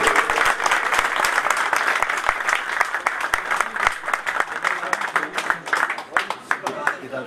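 An audience claps at a Pashto song performance, steady dense applause that thins into scattered claps toward the end.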